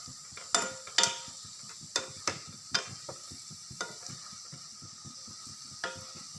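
Stuffed vegetables for a dry coconut-stuffed curry fry slowly in oil, a soft low sizzle broken by scattered clinks and scrapes of a spoon against the pan, quiet and close, with no one speaking.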